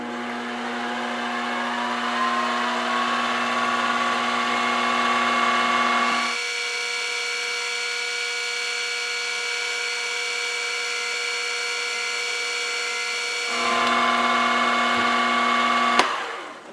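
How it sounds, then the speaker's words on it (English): A centre drill cuts metal on a machine, a steady, close whining hum with strong tonal harmonics that drops in pitch and load for a middle stretch, then rises again before ending with a click. "So let's just get a centre drill."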